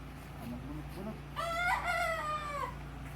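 A rooster crows once over a low steady hum, its harmonic call rising then trailing off after a quiet, murmuring start; the crow is clear and fairly close.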